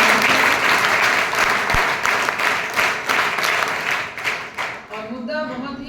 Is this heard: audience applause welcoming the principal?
yes